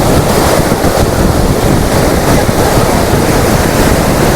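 Sahastrakund waterfall in Nanded district, running with heavy water, gives a loud, continuous broadband roar of rushing water with no break. No voices are heard.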